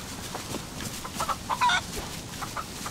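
A chicken in the video game DayZ clucks in a few short, moderately loud bursts near the middle, over steady background game ambience, with no talking.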